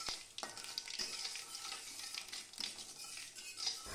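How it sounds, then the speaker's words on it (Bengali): Oil sizzles in a wok heating white oil for cooking diced eggplant and methi greens, with a spoon scraping and stirring in quiet, repeated strokes. "কড়াই বসিয়ে সাদা তেলে রান্নাটা করছি"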